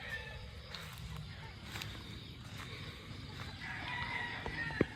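Young pullets cluck and cheep during feeding, with a rooster-like call standing out against steady farmyard background noise and a few faint voices.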